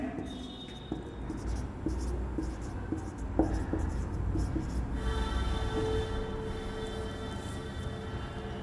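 Marker or chalk scratching on a classroom board while teaching maths, continuous rubbing strokes under a steady background hum, with a teacher's voice speaking at times.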